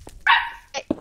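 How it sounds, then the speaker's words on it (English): A dog gives a quick couple of sharp, close barks, the first drawn out and the second short. "Your dog sounds so adorable"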